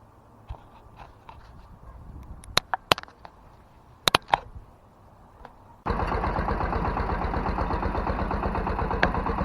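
Tractor engine pulling out toward a field for stubble ploughing, quiet clunks and knocks at first, then a loud steady diesel drone with rhythmic chugging that fills the rest, close and alone.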